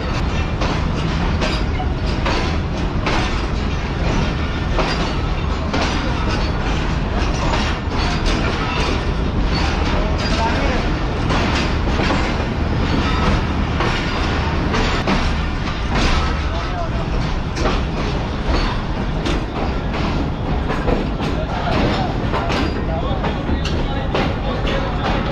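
The Karakoram Express pulls into the main platform at Khanewal Junction, a dense, continuous rumble and clatter of railcars that stays loud and steady throughout, with a busy station crowd mixed in.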